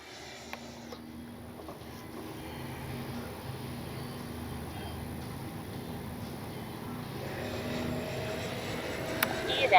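Freewing 80 mm F-5 Tiger II RC jet making a fast pass down a runway, its turbine-like whoosh rising steadily from faint to louder as it nears, with a voice speaking over it.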